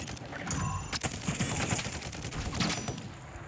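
Gunfire in the Warzone battle royale game on the Vondel map: loud, rapid bursts of shots, with sharp cracks around the first and third seconds, over a constant dense wash of game noise with no talking.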